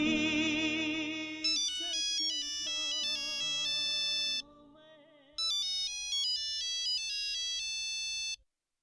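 A telephone ringtone plays a loud electronic melody of repeating bright tones, dropping briefly midway before a second burst, with no talking over it.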